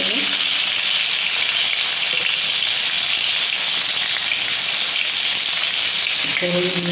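Tomatoes added to a hot pan for khichuri fry with a loud, constant sizzling hiss close by, unbroken from start to finish, with a faint voice briefly under it.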